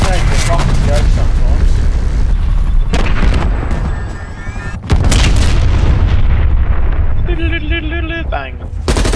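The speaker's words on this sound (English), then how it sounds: "Incoming artillery." Incoming artillery strike in Call of Duty Black Ops Cold War, a barrage of heavy booms and crackling blasts layered over gunfire and game effects, loud and close, briefly dropping before another burst and electronic tones.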